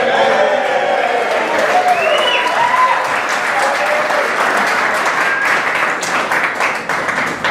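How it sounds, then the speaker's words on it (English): Wedding guests give the bridesmaids a loud, sustained round of applause, with dense clapping, whistles and cheering filling the room nearby. "Let's have a cheer for them."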